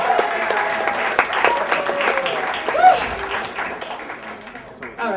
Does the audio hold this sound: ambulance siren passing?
no